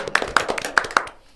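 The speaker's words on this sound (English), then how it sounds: "applause to us first" A few people clapping at the start of a food security podcast recording, a short run of sharp, close, irregular claps that fades out after about a second.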